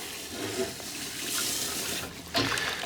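Malt is being added to water and stirred to make a whiskey wash, giving a continuous close sloshing and swirling of liquid with a brief louder splash near the end.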